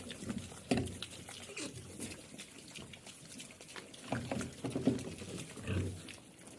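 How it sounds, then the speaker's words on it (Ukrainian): Faint, irregular scraping and knocking of teeth against metal, with a pig's low grunts and snuffles mixed in, close by in a quiet pen. "Свиномат арматуру там гризе."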